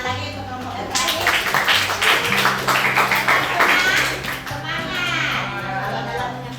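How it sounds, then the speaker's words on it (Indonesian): Schoolchildren in a classroom clap for the last presenting group, a dense, lively round of clapping mixed with children's chatter and voices throughout. "Tepuk tangan lagi untuk kelompok yang terakhir"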